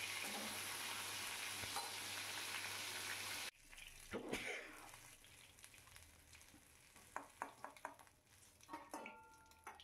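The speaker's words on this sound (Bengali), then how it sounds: "যে ফোড়নটা ভেজে রেখেছিলাম তারই মধ্যে আমি মাছের মুড়োটা দিয়ে দিলাম" A hilsa fish head drops into oil with fried tempering spices, starting with a loud, dense hiss. The sizzle then cuts to a quieter crackle with occasional sharp clinks and scrapes of a utensil against the pan.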